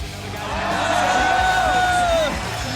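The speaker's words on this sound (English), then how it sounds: "Yeah, listen to the crowd reaction." A crowd at a BMX competition cheers loudly and continuously, with whoops and shouts rising above a dense roar of voices.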